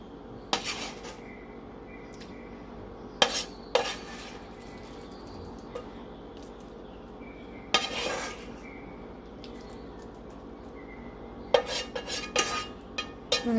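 Spoon clinks and scrapes against a ceramic slow cooker crock as a ground beef mixture is spread over sauce-coated scalloped potatoes, several sharp knocks standing out over a quiet kitchen room tone with long pauses between them.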